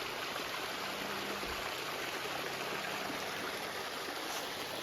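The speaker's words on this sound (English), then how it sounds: "And then there's this little tiny waterfall." Small waterfall in a woodland creek among big boulders, a steady, even hiss of rushing water, faint and continuous.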